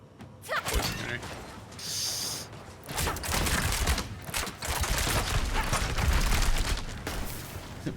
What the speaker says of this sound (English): cart exploded on me